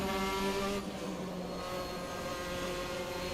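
Formula 4 race cars lapping Okayama in the Assetto Corsa racing sim, a steady loud whine of several engines close by, held at high revs with slight pitch shifts as the pack slides through a corner.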